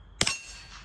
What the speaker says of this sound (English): You can hear the steel ringing in the background.